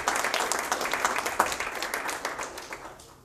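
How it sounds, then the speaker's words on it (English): Scattered applause from a small audience at a Debian internationalization talk, uneven claps rising and fading over a few seconds, fairly quiet and indoors. "again, some applause"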